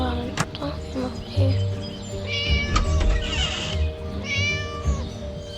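A cat meows several times, close and fairly loud, with drawn-out cries spread across the stretch over faint background music and voices.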